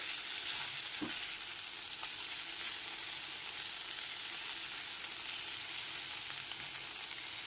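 Mixed vegetables for a dalia khichuri fry in a pan over a medium gas flame. A constant close sizzle runs throughout, with one distinct stirring knock early on.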